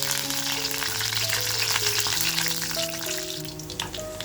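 Curry leaves hit hot oil along with crushed garlic for a village-style spicy curry. A continuous, fairly loud frying hiss runs throughout, with steady tonal background music playing underneath.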